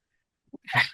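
One short, sharp human sneeze, heard up close: a faint intake and then a loud explosive burst, with silence before it.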